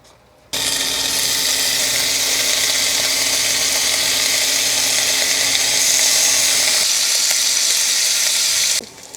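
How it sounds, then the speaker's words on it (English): Strips of bacon frying in a cast iron pan give off a steady, loud, crackling sizzle that runs unbroken for several seconds and then stops abruptly. "fry up a few pieces of bacon in our cast iron pan"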